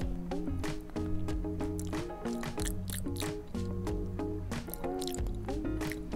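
Burong isda, a fermented fish paste with oil, is stirred in wet, squishy bursts that repeat in an uneven rhythm close by, with no talking.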